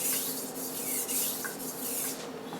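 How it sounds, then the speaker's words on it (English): A chef's knife is drawn across a medium grit Japanese water stone, producing close, hissing rubbing strokes in a quick repeated rhythm, with no talk. "I'm going to establish a burr along the edge in this medium grit stone"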